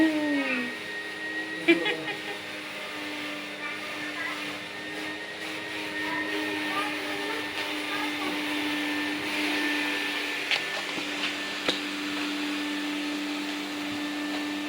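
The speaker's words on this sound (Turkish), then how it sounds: "Süpürge makinesi." A household vacuum cleaner runs with a steady, whining motor hum that stays constant for the whole stretch, with brief voices and small knocks occurring over it.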